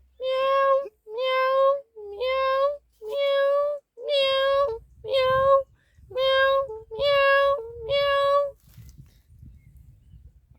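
A young man who imitates animal sounds voices a cat's meow eight times in a steady rhythm, each meow evenly spaced, clear and close. Faint rustling follows the meows.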